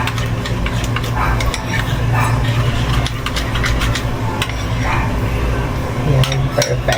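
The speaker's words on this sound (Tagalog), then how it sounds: "Tapos, paghaluin lang natin," Spoon stirring coconut oil into a squash cake batter for dogs in a home kitchen, giving a steady scraping and clinking against the bowl throughout, over a constant low hum of background noise.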